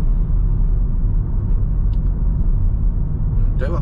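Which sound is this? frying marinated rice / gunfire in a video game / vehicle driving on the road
vehicle driving on the road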